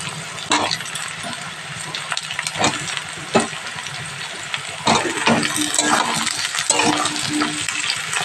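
Eggplant pieces dropped into hot oil in a pan after onions, giving loud spattering sizzles, scattered clatters and scrapes of a utensil, and a continuous frying hiss throughout.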